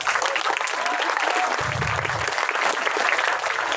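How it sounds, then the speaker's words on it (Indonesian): Dense audience applause at a youth camp sermon gathering, a continuous roar of many hands clapping throughout, close and loud, with a low rumble partway through. "tepuk tangan sebagian"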